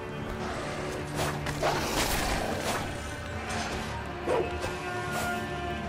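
A dog barks in the video game Sekiro: Shadows Die Twice, several sharp, separate barks amid game sound effects and a low steady hum, fairly quiet overall.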